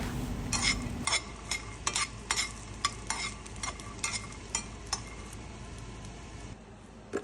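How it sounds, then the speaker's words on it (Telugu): Tamarind being stir-fried with roasted chutney ingredients in a pan: a soft sizzle under a dozen or so sharp, rhythmic scraping stirs of a spoon against the pan, fairly close and quiet, with no voices. "ఆ నిమ్మకాయ సైజ్ అంతా చింతపండును ఇప్పుడు యాడ్ చేసుకుని ఇంకాసేపు వీటన్నిటినీ కలిపిలా వేయించుకుంటున్నాను"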